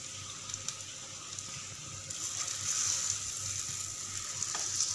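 Chicken for chicken tikka biryani hisses in a hot pot as it is added and spread out, a continuous sizzle that swells louder partway through, with no one speaking.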